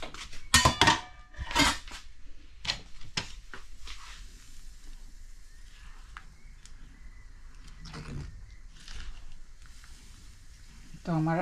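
Urad dal being stirred in a metal pot and then covered, sharp scraping and clanking of a spoon against the pot with quieter gaps between, ending in a lid clatter.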